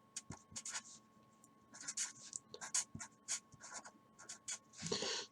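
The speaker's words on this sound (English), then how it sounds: "let me draw out the moving flap design" Pen scratching across paper while a flap design is drawn, quick irregular strokes in bursts, close and fairly quiet, with no voices.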